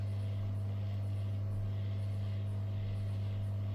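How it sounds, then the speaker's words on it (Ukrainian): A hair dryer runs nonstop at close range, heating a Peltier element: a steady motorized drone with a low hum and a constant airy whir. "Ну це я вже грію феном"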